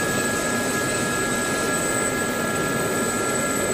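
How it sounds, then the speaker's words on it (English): A steady, loud turbine whine and broadband rush from the small engine of an Sa-342 Gazelle light helicopter in the DCS flight simulator, continuous and unchanging with no voices. "Tiny little engine, but it's a very lightweight helicopter."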